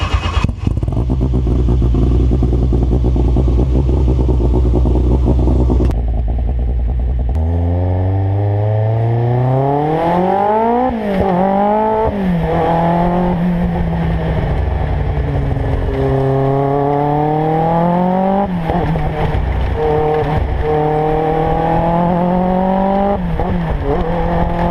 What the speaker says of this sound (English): Peugeot's mid-engine Group B legend used a TJ5-speed straight-cut dog box, mounted transversely behind the cockpit.